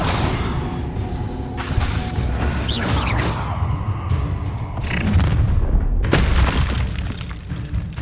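Incendio fire spell bursts in Hogwarts Legacy, a dense run of booming, crashing magical impacts and whooshes layered over continuous battle noise and music, with a sharp heavy hit near the end.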